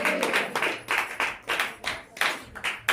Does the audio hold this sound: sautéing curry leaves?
no